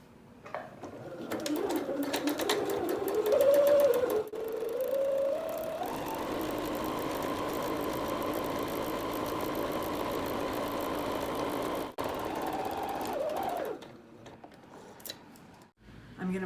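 A home sewing machine runs steadily for about ten seconds, stitching a seam in linen for a cosmetic bag, with a continuous whirring hum and a voice talking over the start.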